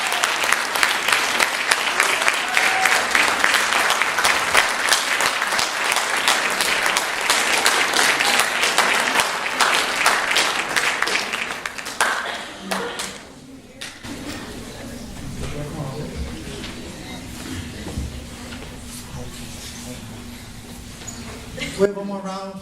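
Applause for a February superstar at a school recognition event, a dense burst of clapping from a crowd that fades out after about twelve seconds, followed by quieter room noise and some talking.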